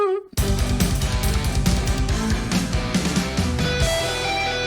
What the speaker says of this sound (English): it's the solo guitar that is just screaming